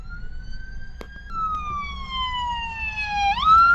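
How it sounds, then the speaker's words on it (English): A fire engine siren wails in a steady tone that slowly falls, then jumps up again near the end as the truck passes, over a constant low rumble of traffic. "fire engine"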